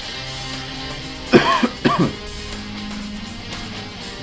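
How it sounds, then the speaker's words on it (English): A man with a sore throat coughs twice in quick, close bursts over a low steady background hum. "You might hear me coughing because of my throat."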